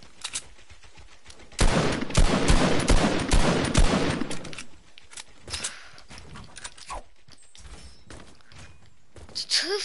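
Gunfire from a suppressed SCAR assault rifle in the video game Fortnite: a dense, loud cluster of rapid shots lasting a few seconds, then scattered softer single reports and clicks.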